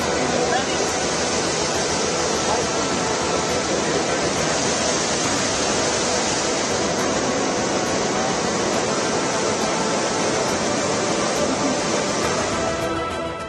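The flooding Alaknanda river at Rudraprayag in Uttarakhand during heavy monsoon rain, a loud, continuous roar of rushing water that stays steady and dense from start to finish.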